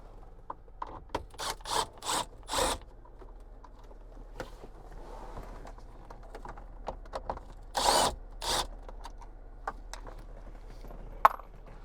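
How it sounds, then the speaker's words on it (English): Number 7 screws are worked out to free the CD player from the dash of a 2014-2018 Silverado or Sierra, giving bursts of raspy, ratcheting scraping in close, quiet groups separated by gaps. "we're going to remove the CD player by removing the 2 number 7 screws"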